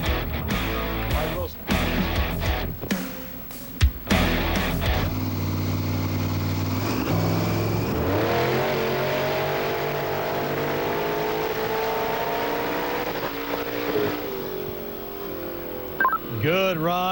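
A Monster Jam monster truck accelerates at full throttle down a track toward a distant cone, its engine roaring loudly and steadily for most of the run after some sharp bursts at the start.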